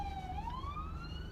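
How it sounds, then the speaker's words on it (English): An ambulance siren sounds at a distance outside a post office, a single wailing tone that rises steadily over a low rumble of traffic, faint and without speech. "that's an ambulance"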